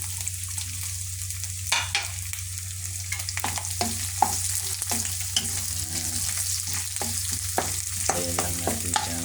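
Onions fry in a pan after garlic, a continuous sizzle under a low steady hum, punctuated by repeated clattering scrapes of a spatula stirring, with no talking.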